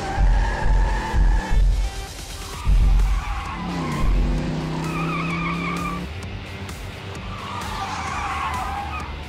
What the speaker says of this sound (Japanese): あの速い車は誰？